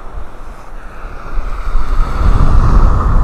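Breezy wind blows at a beach in North Naples, Florida around sunrise, a loud steady rush with low buffeting on the microphone and surf beneath, growing stronger toward the end.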